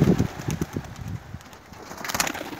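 Pigeons being released from opened cages during a bird release event, with a flurry of wing flapping and bird sounds close by, briefly and unevenly over a few seconds.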